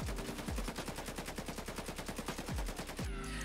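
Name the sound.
AKM gunfire in Escape From Tarkov, a video game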